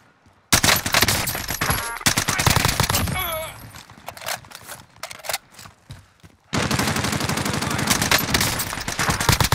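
Sustained automatic gunfire in a video game shootout, long loud rattling bursts broken by a few seconds of scattered single shots, then another steady burst; a voice is heard briefly in the lull.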